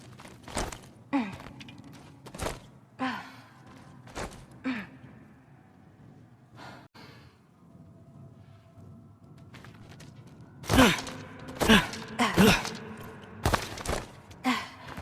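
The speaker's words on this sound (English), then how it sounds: "I think I can hear something breathing near the back of the cell" Heavy breathing of a creature in a cell in God of War Ragnarök, rhythmic sighing inhales and exhales with dull thuds, a sparse stretch, then a louder burst of breaths near the end, with no talking.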